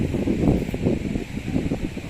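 Wind rustling through leaves in Dolores, Quezon, in a steady, breathy wash with soft gusty swells, fairly close, with no voices.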